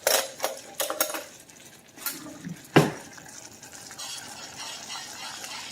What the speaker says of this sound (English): you should be able to stir it again,